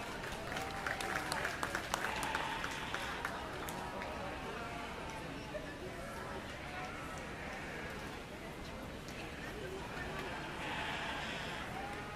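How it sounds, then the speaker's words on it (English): Applause from the audience at a 4-H/FFA market lamb show, a steady crowd clapping that carries through the whole stretch with some scattered louder claps early, heard in an indoor show arena. "Let's give all the exhibitors another great big round of applause"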